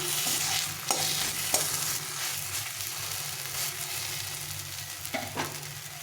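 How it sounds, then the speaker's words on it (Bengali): Mashed ghati kochu (taro) bhorta being stirred and fried in a pan, a steady close sizzle with repeated scraping stirs and a few sharper spatula knocks, no talking. "আবার একটু ভালো করে ভেজে নিলাম"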